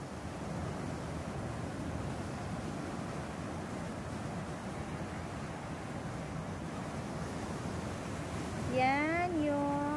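Rough sea surf rushes in a continuous broad wash, with wind buffeting the microphone, during a passing storm; near the end a voice briefly speaks over the waves.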